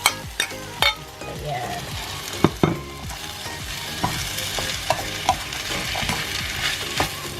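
Potatoes and carrots for pork menudo sizzle and fry in a pan while a utensil scrapes and clatters in irregular knocks, and a voice briefly speaks.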